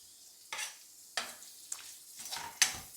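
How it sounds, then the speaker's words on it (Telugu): Onions going into a hot frying pan and being stirred, sizzling with a few sharp scraping bursts of the spoon against the pan in an uneven rhythm, close by and moderately quiet, no talking. "ఆనియన్స్ వేసుకుంటున్నాం."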